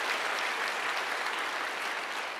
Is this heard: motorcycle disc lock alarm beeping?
no